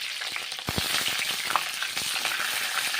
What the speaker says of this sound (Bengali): ফুলকপিগুলো বেশ লাল লাল করে ভেজে নিচ্ছি